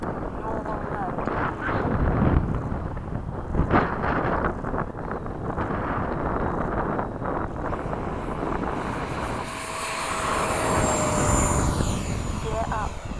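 An E-flite 80mm F/A-18D radio-controlled jet roars past in a fast flight at a flying field, its ducted-fan whine rising and fading under wind noise while people talk.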